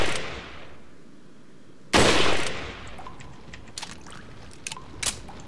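Rifle fire in Resident Evil 4, a single loud, sharp shot at close range followed by a decaying tail, with a few fainter clicks and small impacts scattered afterward over a quiet background.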